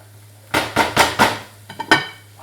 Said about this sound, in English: Give it all a really good mixing up.